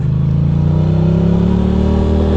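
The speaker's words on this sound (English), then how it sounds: "And now you accelerate" A motorcycle engine pulls steadily and loudly with rising revs as the clutch is let out, a continuous close drone with no voices over it.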